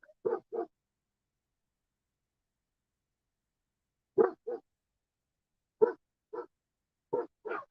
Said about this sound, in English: All the dogs came out here to scrap up what the bread the chickens left.